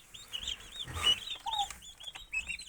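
Young turkey poults peeping in a high, chirping chorus at close range, many overlapping short calls with a brief rustle partway through and no talking.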